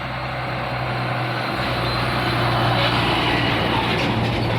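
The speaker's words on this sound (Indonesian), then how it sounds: "Truk dari UD buatan Eropa." A loaded UD truck, European-built, runs with a steady, loud engine drone close by on a road, continuous throughout with no talk.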